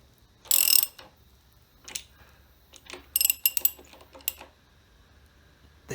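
Bolts being driven by hand into a Roubo-style workbench, with quick ratcheting clicks in short bursts and sharp metallic ticks between pauses, close up and without an impact driver.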